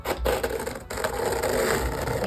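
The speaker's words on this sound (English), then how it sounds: "A scraper, and I'm just smearing it on." A scraper smears spackle across a surface in rough, continuous strokes, a close scratchy rubbing with a brief pause or two between passes.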